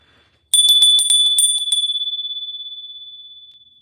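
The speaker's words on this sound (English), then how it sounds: "I'm going to ring the bell once again to clear some space" A bicycle-style bell rings in a quick burst of about eight bright, close strikes, then a single clear tone rings on and slowly fades out, with no talking.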